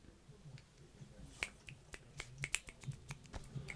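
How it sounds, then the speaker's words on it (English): Several people snap their fingers instead of clapping during a podcast, a scattered run of crisp, fairly quiet snaps at an irregular rhythm. "You're not supposed to clap for people. You're supposed to snap."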